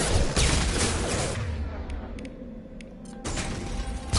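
Video game gunfire in Mass Effect 2 rattles out in a dense, loud burst, drops to a quieter stretch with a few sharp clicks, then rises again as firing resumes.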